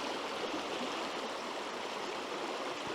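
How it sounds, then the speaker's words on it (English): A small creek flowing where it narrows and deepens before shallowing again, a steady broadband rush of running water heard up close, constant and unbroken with no voices. "where the stream collects into one and it gets deeper and then shallower again"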